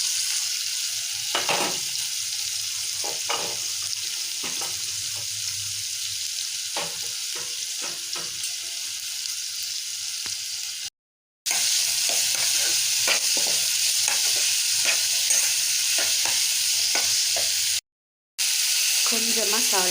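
Onions being sautéed in a frying pan for a puri potato side dish make a steady close sizzle and frying hiss, with occasional stirring scrapes and two brief dropouts.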